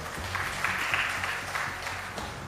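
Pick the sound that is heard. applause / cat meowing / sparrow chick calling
applause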